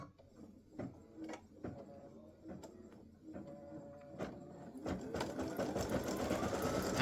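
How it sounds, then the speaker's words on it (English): An embroidery machine satin-stitches around a ball on a Christmas gnome applique, its needle clattering in steady bursts that build into a dense, continuous whir toward the end. "It stitches the ball and then it does the satin stitching around it."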